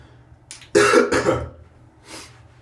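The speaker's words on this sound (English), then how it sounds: "Now, of course, I just coughed on the foundation." A single loud, rough cough with a throat-clearing rasp, followed by a softer short exhale; no talking.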